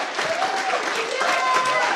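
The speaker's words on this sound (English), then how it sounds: "one more round of applause for all the graduates today." A crowd at a 2022 university graduation ceremony applauds the graduates steadily, a dense wash of clapping that holds at an even level throughout.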